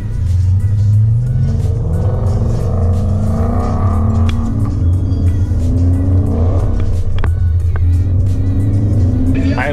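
A 2012 Ford Mustang with a 5.0 V8 rumbles loud and close, its deep exhaust drone holding steady throughout with brief rises in pitch as the engine is revved, with no talking.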